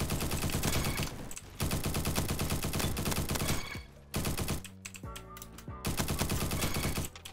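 Galil rifle from a first-person shooter game firing in long, rapid automatic bursts, loud and close, separated by short pauses and a brief reload-like clatter, with no talking.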